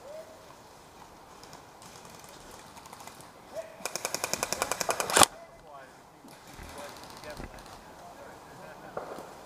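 An airsoft gun fires during a rush-style site game, a rapid burst of about a dozen sharp mechanical cracks in the middle, with scattered outdoor noise and players talking around it.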